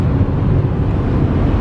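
Steady broadband road and wind rumble from a car being driven along narrow roads in Iceland, a manual stick-shift, with constant low-end drone and no break throughout.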